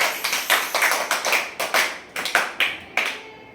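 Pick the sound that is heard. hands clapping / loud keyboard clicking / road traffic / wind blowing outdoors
hands clapping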